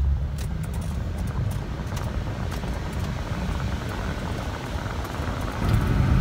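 An Infiniti G37 coupe with engine trouble rumbles steadily as it is eased into acceleration, a continuous low road and engine drone with no voices.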